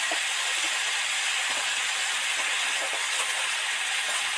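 Ground turmeric and chili powder sizzle in hot oil with potatoes for a pumpkin, potato, prawn and drumstick curry, giving a steady, loud, even hiss with faint crackles and no pause throughout.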